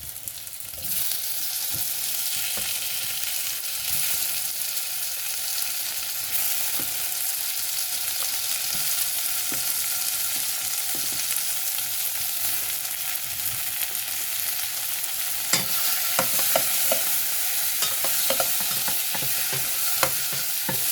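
Onion and tomato for a Brussels sprouts curry fry in a pan with a constant bright sizzle, punctuated by spoon scrapes and stirring clatter, especially toward the end; no talking.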